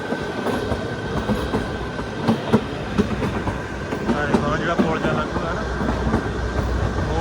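A toy train rolls steadily along its track with a continuous rumbling clatter and faint rhythmic clicks, fairly loud and close throughout.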